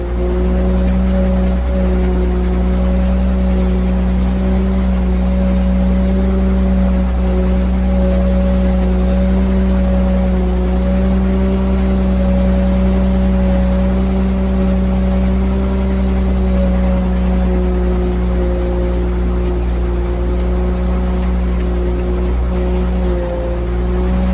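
A CAT 140G motor grader's diesel engine drones loud and close while grading a dirt road, a constant heavy hum with steady tonal harmonics and no voices.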